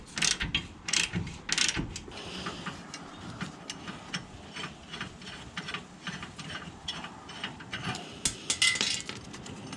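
A hand ratchet works on the U-bolts of the leaf springs of a Ford F-150 Raptor, giving rapid clicking pawl bursts in an uneven rhythm with metallic clinks, close up and without talk.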